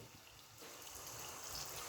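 Water is poured into a hot pan of frying masala for a dried fish egg curry, a soft, steady gushing stream that swells slightly toward the end, with no talk.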